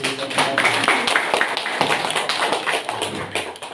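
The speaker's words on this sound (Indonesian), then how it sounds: "Mari kita tepuk tangan Pak." An audience claps at a food-reserve distribution event attended by a regency head; uneven, fairly close hand claps and taps run throughout, with scattered individual claps standing out rather than a dense roar.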